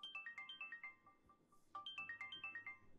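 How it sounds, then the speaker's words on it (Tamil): A phone rings with an incoming video call: a bright electronic ringtone of rapid repeating chirpy tones in two bursts, clear and alone with a brief pause between. "அங்கேருந்து ஒரு ஃபோன் ரிங் ஆச்சு."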